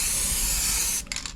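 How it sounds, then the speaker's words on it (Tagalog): Silver spray paint hisses from an aerosol can onto cardboard, a loud continuous spray for about a second, then short broken bursts as the nozzle is pressed again. "I-spray natin yan dito sa carton."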